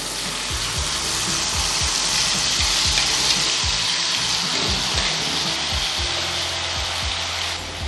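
Gravy paste frying in hot oil with cumin in a kadhai, a loud, continuous close-up sizzle with a steady hiss and faint stirring knocks underneath.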